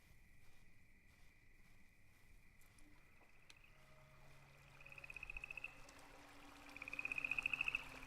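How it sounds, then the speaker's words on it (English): Croaking from a frog in the video game Whispering Willows comes through as faint repeated rapid trills over a quiet, eerie ambient hum, with no one talking. "A frog. Something here is alive."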